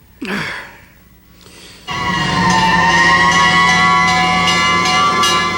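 Fire engine siren in a Sesame Street street scene: a brief breathy gasp, then a loud sustained wailing tone with bright bell-like accents that holds steady to the end.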